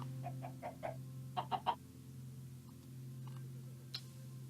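Chickens on an automatic egg farm in Minecraft give a few quick clucks in small clusters, then a lone later cluck, all over a constant low drone with no voices.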